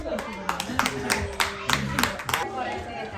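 Family members clap their hands during a Secret Santa gathering at home, a loose string of sharp, separate claps close by, mixed in with chatter and voices calling out.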